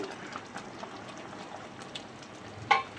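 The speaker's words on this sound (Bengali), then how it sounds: "আমি মিডিয়াম টু হাই ফ্লেমে মাছের ঝোলটা ভালো করে ফুটতে দেব" Prawn malai curry gravy bubbling in a pan over a medium-high flame, a faint steady simmer with soft pops and a brief sharper crackle near the end, no voices.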